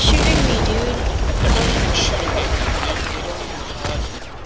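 Gunfire in the online shooter Red Crucible Firestorm crackles in rapid bursts and booms, loud and dense throughout, with a player's voice talking over it.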